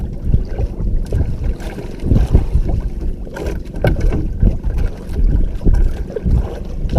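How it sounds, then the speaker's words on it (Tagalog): Strong river current rushes around a small fishing boat. Loud, turbulent water slaps and gurgles continuously, mixed with wind buffeting the microphone, and nobody speaks. "Grabe yung agos dito, malakas."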